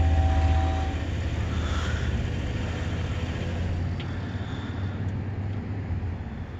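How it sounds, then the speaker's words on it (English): A slow westbound CN mixed freight train led by two locomotives rolls past at Emmett, a steady low rumble with a faint metallic rattle and screech, loud and continuous throughout. "This might be the first train."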